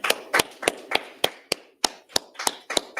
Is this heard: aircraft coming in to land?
no